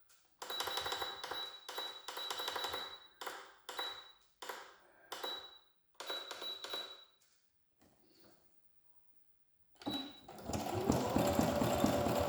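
A sewing machine runs a fine zigzag stitch while embroidering leaves, whirring in repeated short bursts separated by pauses and a longer silence, then starting again at the end.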